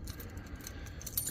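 Keys jingle briefly and quietly in the ignition of a golf cart outdoors, a short metallic rattle with a few small clinks.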